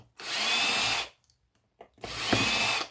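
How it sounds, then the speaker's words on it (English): A power drill runs in two steady, loud bursts while taking apart electrical scrap, each lasting about a second with a brief quiet gap between, and no speech. "You need a drill. Things move a lot faster when you have a drill."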